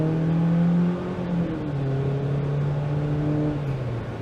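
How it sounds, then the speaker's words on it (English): A 2022 Jeep Compass Trailhawk driving on the road, its engine humming with a steady tone that shifts pitch as it rises and settles, mixed with road and wind noise from inside the cabin. "I'm gonna take it on the road and test it out just a little bit more."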